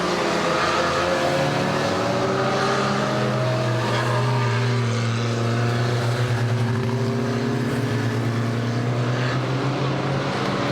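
Stock cars race around an oval in a club meeting, with several engines droning together in steady, loud overlapping tones that rise and fall as cars bunch and pass.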